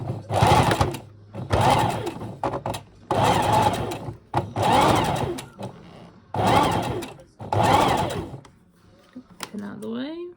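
A sewing machine stitches elastic into a bridesmaid dress with a half-centimetre allowance, running in several close, steady bursts separated by short pauses, then stopping.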